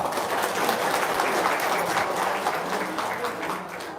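An audience at a seminar gathering claps on cue, a dense round of applause that holds steady and then slowly tapers off.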